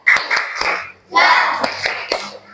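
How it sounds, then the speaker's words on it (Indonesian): Children in a fifth-grade elementary classroom do a rhythmic group clap, sharp hand claps in short bursts with brief pauses between them, mixed with voices calling out. "Tepuk jos."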